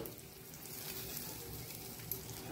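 Cumin seeds with chopped curry leaves and black pepper sizzle and crackle in hot oil, a quiet, steady frying hiss with small pops, close by and without talk.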